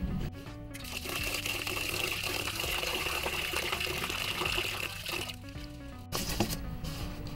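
Food ingredients for kakanin are washed by hand in water, giving a continuous, close sloshing and trickling with squishy rubbing, briefly interrupted a couple of times.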